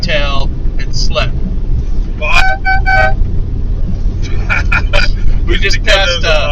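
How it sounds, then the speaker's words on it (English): A snow plow truck fitted with a Boss plow honks its vehicle horn in short toots, heard as brief blasts over a rumbling cab, with voices present. "whenever I see another Boss plow guy, I honk the horn and wave"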